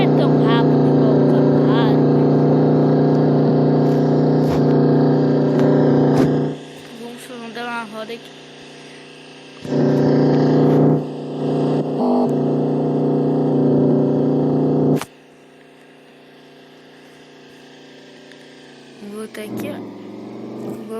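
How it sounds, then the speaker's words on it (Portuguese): A Dodge car drives in the Farming USA 2 video game, its engine droning steadily and loudly with shifting pitch, dropping away in quieter stretches while someone talks over it. "Vamos entrar aqui no nosso Dodge e vamos dar umas andadas aí"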